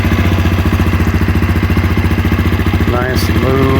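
A 2025 Honda CRF250F fuel-injected trail bike engine idles with a steady, low, throaty pulsing rhythm, loud and close throughout, with a brief blip of throttle near the end.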